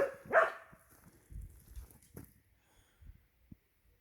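A dog gives a few short barks and snorts at close range, with one loud burst near the start and a couple of sharper yelps later, separated by quiet gaps and low rustling.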